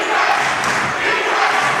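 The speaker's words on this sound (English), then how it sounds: "the crowd is into it" A crowd cheers at a high school boys basketball game in a packed gym, a loud continuous roar of voices lasting the whole moment without pause.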